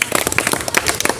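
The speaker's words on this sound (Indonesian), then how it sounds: "Kita beri tepuk tangan dulu." Students in a physical education class clapping together, a loud, close, uneven burst of many sharp hand claps sustained throughout.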